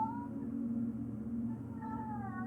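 A house cat meows close by, with drawn-out, wavering cries repeating over low room hum.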